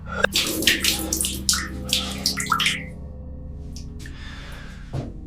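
Running water in a dark horror film scene in an old house, a splashing stream with several bursts at the start, then a steady soft flow and a final splash.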